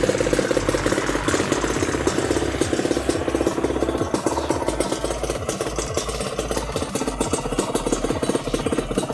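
A modified Honda Wave two-stroke motorcycle with a high-compression head, 56.5 mm bore and reed valve revs loud and close, giving a raspy, rapid pulsing exhaust that holds steady throughout with no talking.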